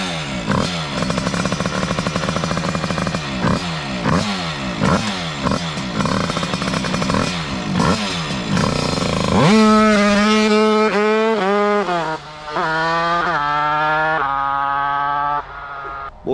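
A Bidalot 96cc dragster motorcycle engine runs loud and close, first a rapid rasping drone with rhythmic surges, then climbing hard through several rising revs with brief drops between them before cutting off.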